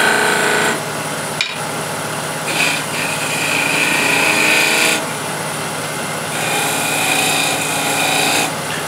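A wood-turning tool deepens a V-cut to clear away timber on a spinning workpiece, producing a steady, close, high-pitched scraping whine that shifts in intensity as the cut engages and eases off, with no talk.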